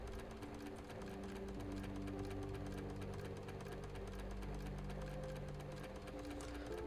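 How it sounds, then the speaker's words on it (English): A sewing machine from the game Arknights runs with a rapid, even needle clatter, fairly faint and steady, while sustained musical tones play underneath. "He silently counts the number of times the sewing machine's needle bobbed up and down."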